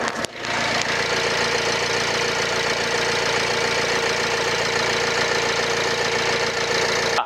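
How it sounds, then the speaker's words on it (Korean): A Renault Samsung QM6 LE SUV engine idling steadily up close with the hood open, a continuous even rumble with a faint rhythmic knock and no voices. "이렇게 엔진 열어봤고요 엔진 소리 한번 들어볼게요"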